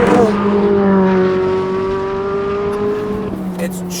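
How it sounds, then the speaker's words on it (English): A Chevrolet Corvette C8 Z06 with a naturally aspirated V8 engine holds a strong, steady drone up close, then its revs ease off and fall away. "It's just like a Ferrari V8, naturally aspirated, but with slightly more bass."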